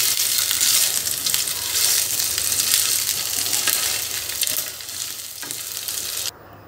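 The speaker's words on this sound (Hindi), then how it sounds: "हल्का सा रोस्ट करना है तिल को भी ऊपर से।" White sesame seeds roasting in a small pan for goli idli, a steady bright sizzle and crackle with light stirring scrapes, continuous and close, fading slightly toward the end before cutting off.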